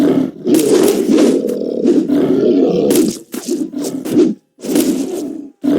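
Wolf attack roars from the online shooter game Wolfteam, a series of loud, snarling bursts in quick succession separated by brief gaps, with no talking.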